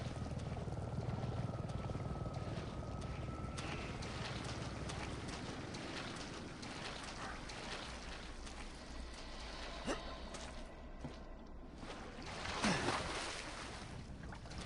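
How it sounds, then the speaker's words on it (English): A helicopter in the VR video game Resident Evil 7 gives a steady whooshing rotor drone mixed with wind-like noise, holding fairly even before swelling briefly near the end. "Helicopter!"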